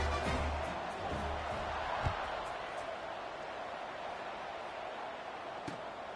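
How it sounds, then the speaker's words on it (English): A football stadium crowd at a Hampton versus Morgan State league game, buzzing after a score: a steady, distant murmur of many voices with a few faint thumps and claps. "this crowd is buzzing after that last score"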